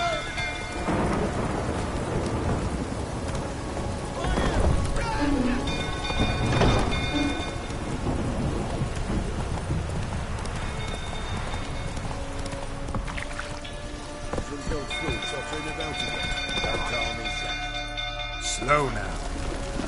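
Horse trotting through a thunderstorm in The Witcher 3 video game: steady rain and rolling thunder fill the scene, with faint hoofbeats, music and characters speaking over it.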